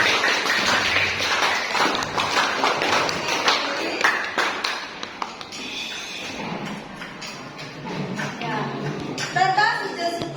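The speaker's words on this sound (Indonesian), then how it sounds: "Berikan tepuk tangan untuk kelompok yang pertama." A classroom applauds the first student group after its presentation: a round of clapping from many hands fills the opening seconds, then fades as a voice carries on talking over scattered taps and room noise.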